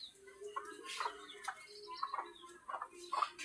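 Chickens on a farm make faint, scattered clucks and chirps, several short calls in quick succession against a quiet background.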